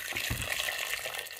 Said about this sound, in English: 5 cups of water here, which I'm just going to add to it